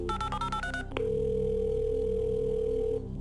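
A quick burst of telephone keypad dialing tones gives way to a long, steady electronic tone as a Who Wants To Be A Millionaire phone-a-friend call connects, clear with no talking.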